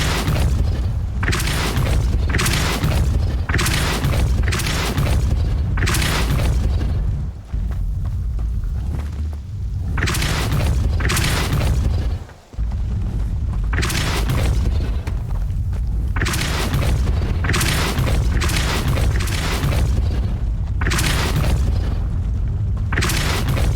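Repeated heavy force-spell blasts thump out in Hogwarts Legacy, a steady series of loud booming impacts spaced a second or two apart over a long stretch, with short quiet gaps between bursts.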